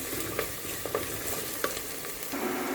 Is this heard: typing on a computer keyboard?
no